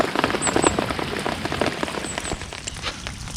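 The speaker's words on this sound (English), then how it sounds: "So now we've got hailstones." Hailstones falling outdoors at a bream fishing spot make a dense, steady patter of hard little impacts all around, continuous and fairly loud throughout, with no speech.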